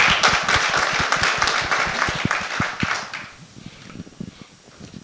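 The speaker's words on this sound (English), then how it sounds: "So everyone give a round of applause for Mayor Carolyn Torosis" An audience claps for a mayor at a forum on the unhoused crisis in West Los Angeles. The applause is steady for about three seconds, then thins to scattered claps and a few taps.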